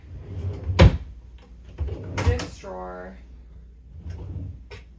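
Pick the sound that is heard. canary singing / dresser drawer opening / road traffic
dresser drawer opening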